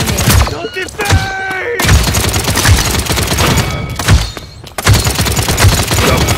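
Rapid enemy gunfire in the shooter game Paladins crackles in dense, overlapping bursts and volleys, loud and close, with brief gaps between salvos.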